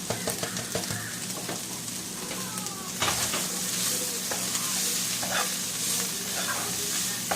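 Beef seasoned with bouillon, cumin and garlic fries in a pan with a loud close sizzle, while brisk stirring scrapes and clatters through it and a sharper burst of hissing breaks out partway through.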